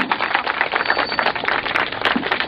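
A crowd of children claps loudly at a 26 January Republic Day event in Palla, a dense, continuous patter of many hands with no voices.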